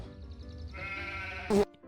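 A sheep bleats in the Gothic role-playing game, one drawn-out wavering bleat that ends in a brief louder burst, close and clear with no talk over it.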